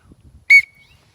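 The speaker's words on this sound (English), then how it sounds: "Safety whistle." One short, sharp blast from a cheap plastic safety whistle carried for kayak fishing, loud and close, with a faint thin tone trailing after it in near silence.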